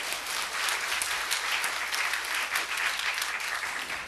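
A church congregation applauds during a Sunday worship service, a steady dense wash of clapping that fills the whole stretch at even loudness, close and continuous with no voices standing out.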